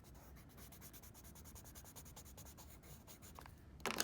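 Colored pencil rubbed hard on paper at full pressure, a dense run of quick scratchy back-and-forth strokes, close and fairly quiet, ending in a louder brush of contact.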